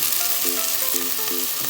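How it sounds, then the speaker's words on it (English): Prawn linguine ingredients sauté in a pan with a dense, loud sizzle, while a few faint tonal beeps sound over the frying. "So it's sauteing."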